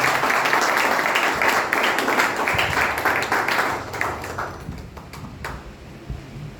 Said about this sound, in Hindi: आइए हम वचन का और उनका ताली बजाकर स्वागत करते हैं।